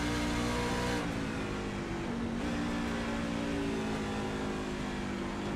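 Racing truck engine in the iRacing video game during a truck series race at New Hampshire Motor Speedway, droning steadily with a brief dip in pitch around a gear shift, loud and continuous with no talk.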